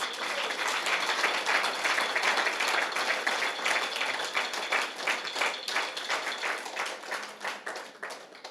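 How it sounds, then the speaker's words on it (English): A room of listeners gives a special round of applause for the Jamaican folk singers honouring Dr. Olive Lewin's legacy, steady dense clapping that holds for several seconds before thinning slightly toward the end. "I want you to give them a special round of applause"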